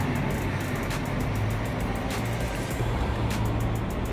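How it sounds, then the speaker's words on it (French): A Bentley luxury car drives past on a street in Cannes, a steady rumbling engine and road noise that stays fairly loud and close throughout, with no talking. "Là, une autre Bentley."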